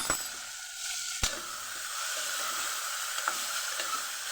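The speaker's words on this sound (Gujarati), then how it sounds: "ગવારને સરસ આપણે સાતડી લેશું" Cluster beans (guar) sautéing in a pan with turmeric and salt, giving a steady broadband sizzle and hiss with a sharp clink near the start and a few small stirring knocks, fairly close.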